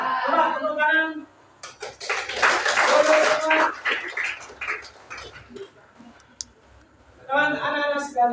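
A group of high school students in a Makassar classroom claps together in a brief, sharp burst of overlapping hand claps, with a teacher's voice talking before and after.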